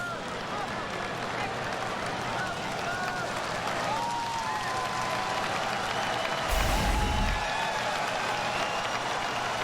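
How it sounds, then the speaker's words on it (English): Large baseball crowd at Wrigley Field during a Pirates at Cubs game, a steady distant roar of chatter and noise with a brief louder burst near the end, under faint broadcast sound. "Big crowd here at Wrigley Field today. Making some noise."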